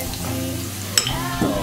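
Ginger hits hot oil in a pan while cooking pad thai, giving a steady sizzle with stirring clatter, a sharp clack near the middle and a brief burst of fresh frying toward the end.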